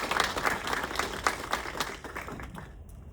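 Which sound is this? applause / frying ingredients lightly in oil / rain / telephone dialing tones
applause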